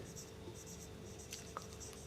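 Marker or chalk strokes on a board during a chemistry lecture, a run of short scratchy strokes close by over a low steady room hum.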